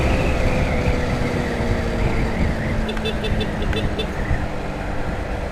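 A double-axle sand truck rumbles past on a dusty road, its heavy engine roar filling the foreground steadily while someone talks over it.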